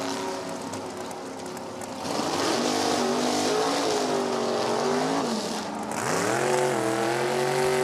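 Two drag-racing roadsters, one a left-handed 1963 Corvette, launch side by side, their engines climbing in a loud rising roar that shifts and surges again as they pull away down the strip.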